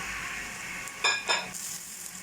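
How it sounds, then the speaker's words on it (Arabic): Carrots, zucchini, onion and pepper fry in a pan under a constant hissing sizzle, broken by two quick scraping stirs near the middle. "غادي نضيفهم البصل والفلفل وصافي وغادي نخلط"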